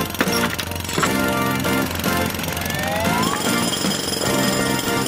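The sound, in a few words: jackhammer in a cartoon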